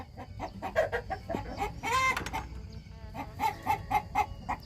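Hens cluck in a chicken coop on a spring homestead, short repeated clucks and calls close by, with one louder drawn-out squawk in the middle and the flock murmuring throughout.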